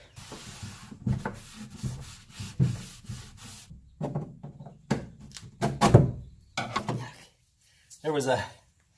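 Wooden furniture being stained by hand, a close rubbing and scrubbing in repeated bursts with short pauses, along with a few light knocks against the wood, while someone talks now and then.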